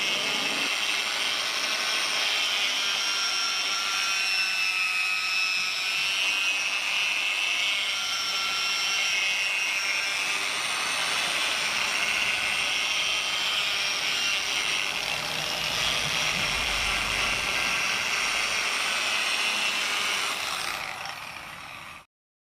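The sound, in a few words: polishing machine compounding motorcycle paint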